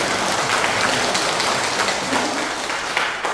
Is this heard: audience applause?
yes